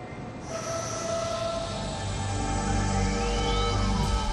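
Transrapid maglev train passing, a smooth rising whoosh and hum that swells from near quiet into a loud sustained roar with tonal whines and a sweeping pitch glide, no voices.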